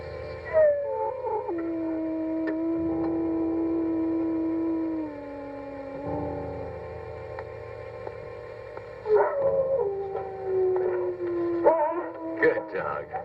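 A dog howls in long, wavering, drawn-out tones in an old horror film, several sustained cries with falling pitch, moderately loud over a quiet background hum.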